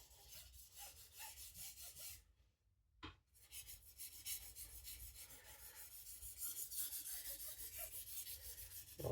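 A knife edge scrapes back and forth over an Atoma diamond plate in rapid, rhythmic gritty strokes, broken by a brief pause midway before the strokes resume and grow a little louder.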